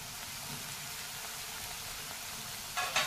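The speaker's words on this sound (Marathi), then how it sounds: "झाकण ठेवून लहान गॅसवर 5 मिनिटं मी या भाज्या शिजवून घेणार आहे।" Vegetables cooking with a splash of water in a covered pan over a low flame, giving a soft, steady hiss and gentle bubbling sizzle that swells briefly near the end.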